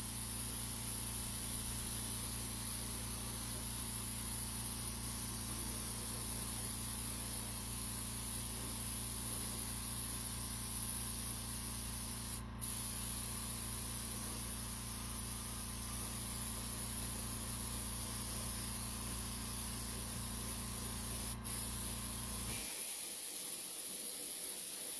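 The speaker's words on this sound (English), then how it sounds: "It does great when the airbrush works." An airbrush sprays in a continuous steady hiss with a constant hum beneath, running unbroken for over twenty seconds with a couple of tiny clicks before cutting off abruptly near the end.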